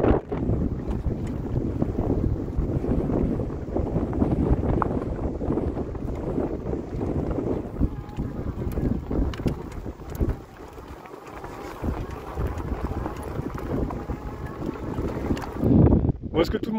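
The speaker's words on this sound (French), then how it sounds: "On survit avec ce vent, ça nous pousse un petit peu dans tous les sens." Strong wind buffets the microphone in a steady, roaring rush, with water and boat noise beneath and occasional voices.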